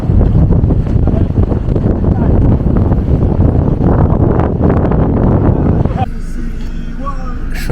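Strong seaside wind in Shanwei, Guangdong, roars loudly and steadily across the microphone, buffeting it without pause, then eases slightly after about six seconds as faint voices come through.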